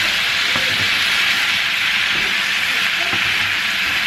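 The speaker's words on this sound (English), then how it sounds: "this callaloo that's steaming" Canned callaloo steaming in a pot, a loud, steady broadband hiss that holds evenly throughout with faint low clinks underneath.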